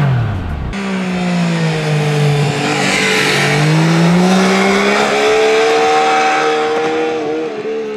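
A 2023 Yamaha Niken GT three-wheeled motorcycle with a revised airbox revs hard on a Sardinian road, its engine note loud and continuous, rising in pitch from mid-range toward the top end with a gravelly, hard-edged tone.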